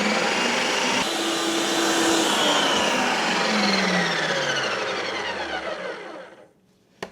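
A countertop ice cream maker on its light ice cream setting churns protein eggnog ice cream, a loud steady motor whir with shifting tones for about six seconds that then winds down and stops, ending with a brief click.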